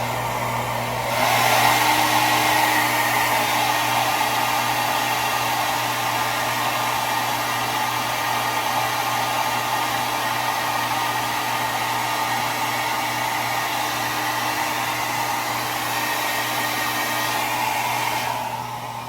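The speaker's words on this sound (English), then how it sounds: "I'm going to heat the comb." A hair dryer blows on a comb to heat it for mustache wax, a loud steady whooshing roar that starts abruptly and runs continuously, close by, with no talking.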